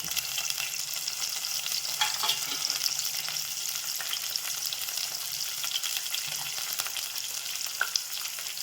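Green chillies, tomato and curry leaves sizzle and crackle steadily in a hot pan, a close, continuous frying hiss with occasional sharper pops and stirring sounds.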